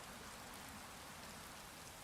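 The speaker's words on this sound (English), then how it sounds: "Oh crap, and of course it would rain." Steady rain falls in the video game Rising World, a soft, even hiss of drops filling the background without pause.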